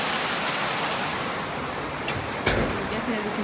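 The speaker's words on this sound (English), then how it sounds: "and it's raining so heavy." Dense, steady roar of heavy rain pouring down in Lagos during flooding, a broad wash of noise with a few louder splashes, close and continuous.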